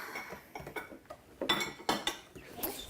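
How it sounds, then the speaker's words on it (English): Batter for golden banana bread is stirred in a bowl, giving irregular clinks and scrapes of a utensil against the bowl at close range, with no talk over it. "Okay, Erin, keep stirring."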